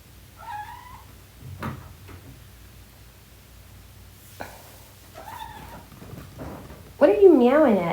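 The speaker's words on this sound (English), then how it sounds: "What are you meowing at, Justin?" A cat meows several times with pauses between, ending in a louder, wavering drawn-out yowl; a few soft knocks and light clatter occur in between.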